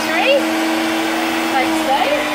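A kitchen appliance whizzes butter and ingredients for gluten-free cupcakes into a buttery mix, a loud, steady motor whir with a wavering pitch that runs throughout, briefly under a voice.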